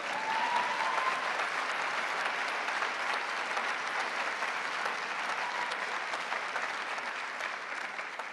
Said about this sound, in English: You can give me a clap for that bit.